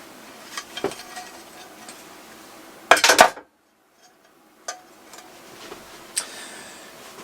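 Screws being taken out of a monkey bike clutch cover: scattered metallic clicks and taps, a brief loud rattling clatter of small metal parts in the middle, then a few more isolated ticks, no talking.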